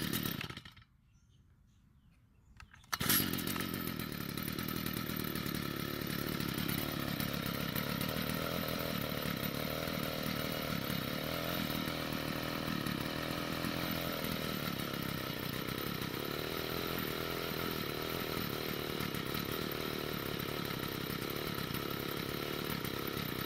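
A Stihl FS45 string trimmer's two-stroke engine, fueled with 89-octane ethanol-free mix at 40:1, roars up after a brief quiet start. It then drones loud and steady, close by, for the rest of the clip, with no talking.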